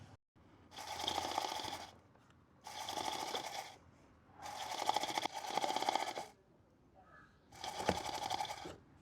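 A bicycle wheel is spun by hand while its chain runs through a cheap semi-automatic chain cleaner fed with kerosene, producing four bursts of whirring, gritty rattling separated by short pauses.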